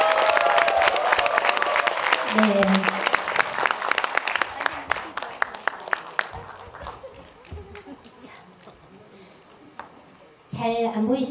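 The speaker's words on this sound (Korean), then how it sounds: "다시 한번 그 환성과 함께 박수 다시 한번 보내주세요" An audience at a Korean traditional music performance in Paju bursts into sustained applause and cheering that gradually thins out, with voices talking over it before a brief louder burst at the end.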